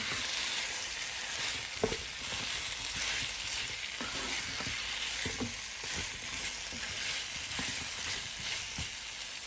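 Boiled elephant yam pieces frying and being mixed in a pan, a continuous soft sizzle broken by occasional spatula scrapes and taps, close but fairly quiet with no talking.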